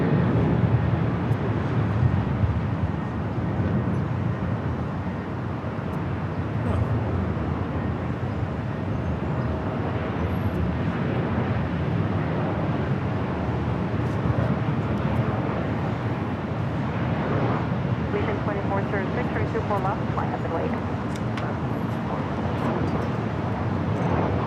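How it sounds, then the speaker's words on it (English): Sustained loud jet roar of a CGM Air Cargo freighter arriving at LAX from Mexico City. The rumble holds steady and broad the entire time, swelling a little near the start, with no talking. "CGM Air Cargo coming in from Mexico City."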